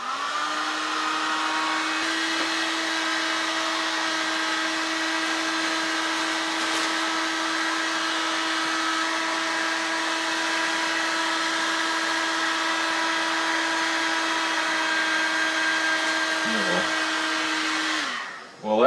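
A heater blows hot air steadily onto a Piper Super Cub interior panel during refurbishment, a constant, loud whooshing hum with a fixed tone that runs unbroken for nearly nineteen seconds before a brief shift at the end.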